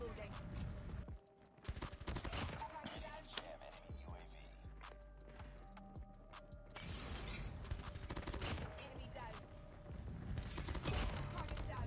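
Bursts of automatic gunfire from the shooter game Call of Duty Mobile, with a Peacekeeper rifle in use, rattle in rapid volleys separated by short gaps, quiet overall with faint game sounds between them.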